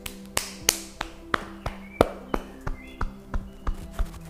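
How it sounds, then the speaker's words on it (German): Rhythmic hand tapping down the inner arm and back up the outer side during a meridian yoga routine, a steady series of about a dozen close, crisp pats at a relaxed even pace, with no talking. "Wir klopfen aber den Innenarm nach unten, über Zeigefinger und den Daumen wieder nach oben an der Außenseite."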